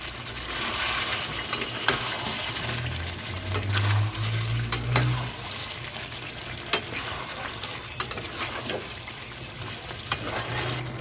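Chicken and potato curry stirred and fried in a pan, with a steady sizzle and repeated scraping strokes of the spoon running throughout, close up, with a few sharper clinks against the pan.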